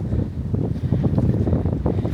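Wind buffets the microphone on the footbridge leading to Vassivière island: a steady, loud low rumble with gusty swells and no voices.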